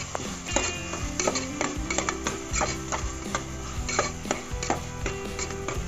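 Crab masala sautéing in a pan, with continuous loud sizzling under repeated clinks and scrapes of a spatula against the metal pan.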